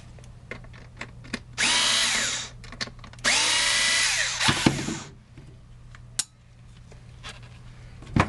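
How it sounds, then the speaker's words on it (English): A power screwdriver backs screws out of an HP Q2612A 12A toner cartridge, working the non-gear side first. It gives two sustained, fairly loud whirring bursts of about a second each, with small clicks and handling noises between them. "I'm going to remove the screws from the gear side and from the non-geared side"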